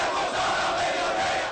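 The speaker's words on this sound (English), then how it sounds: "Thousands of voices rising up in this ancient city founded by Alexander the Great" Thousands of protesters at a Mubarak-era rally in Alexandria, Egypt, a dense crowd roar of many voices chanting together, loud and steady throughout with no single voice standing out.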